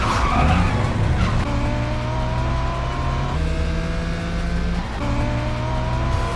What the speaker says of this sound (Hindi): जंगकुक ने एक्सेलेरेटर और जोर से दबा दिया। उसकी कार थोड़ी आगे निकल गई।